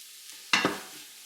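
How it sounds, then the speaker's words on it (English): White onions and green pepper sautéing in melting butter give a brief, close scrape-and-sizzle burst as they are stirred, over a faint steady hiss. "Mix around the white onions and green pepper with the butter. Try to melt out the butter too."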